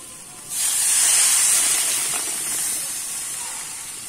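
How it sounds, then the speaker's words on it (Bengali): Water hits a hot pan of Bhetki fish and taro curry with a sudden loud hiss that settles into sustained, fading steam and sizzle, close by and with no talking. "এবারে কিন্তু আমি জলটা দিয়ে দেবো।"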